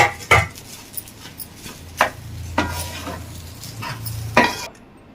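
Cooked rice stirred into a boiled egg masala in a pan, with soft scraping and occasional sharp clinks of a spoon against metal, close and sparse.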